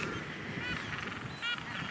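Penguins at Volunteer Point in the Falkland Islands call in a loud, continuous chorus of harsh, honking brays, close by and with no talking.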